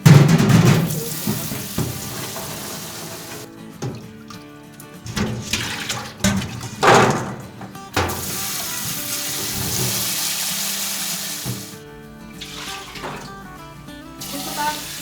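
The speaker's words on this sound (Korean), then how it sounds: "그래서 맹물에 계속 씻으실 겁니다." Walnuts are rinsed under a running tap in plain water, a continuous gush and splash that swells and fades as they are handled, with a voice talking over parts of it.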